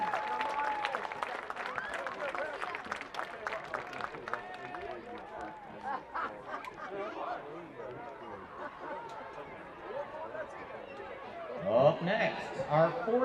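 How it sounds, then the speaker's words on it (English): A stadium crowd applauds a 3rd grade Panthers youth football team and its cheerleader, clapping mixing with chatter and the babble of many voices, with people talking throughout. "give these young men, their coaches, and this young lady who cheers squad a round of applause"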